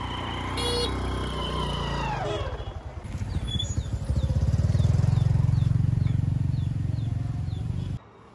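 A motorbike passes on a road in a Vietnamese village, its engine rising to a close, throbbing rumble that holds steady before cutting off sharply, with faint chirping in the background.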